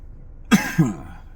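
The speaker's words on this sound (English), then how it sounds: "Yes, baby, you're coughing." Two close, quick coughs, one right after the other, then a short fading breathy tail.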